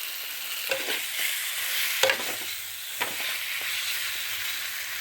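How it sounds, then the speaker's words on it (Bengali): Fried eggs are stirred and sautéed in spice paste for an egg curry, with a bright sizzle and several sharp spatula scrapes against the pan, close and unaccompanied by speech. "এবার ডিমের ভাজাটা দিয়ে কষিয়ে নিয়েছি,"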